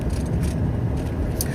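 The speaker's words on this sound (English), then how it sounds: "I'm driving." Steady road rumble and engine drone inside a moving car, a low continuous hum with faint wind noise, heard from the cabin.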